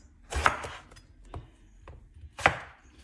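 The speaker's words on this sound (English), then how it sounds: "I'm going to cut the end of this lovely eggplant and I'm going to cut it into pieces" A knife cuts through an eggplant on a board: three distinct chops, with the first and last strongest and a quieter one between, all close and clear with no talking.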